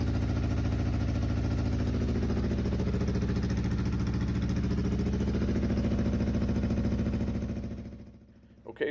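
A Yamaha XJ 400 motorcycle engine idles roughly and unevenly, with a steady throbbing rumble close by for about eight seconds before it cuts off abruptly.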